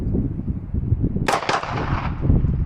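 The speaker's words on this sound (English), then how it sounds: "I'm going to pop off a couple rounds really fast" Pistol rounds fired in quick succession during a 9mm versus 10mm comparison: two sharp, loud reports close together mid-clip, with a fainter follow-up, over steady background noise.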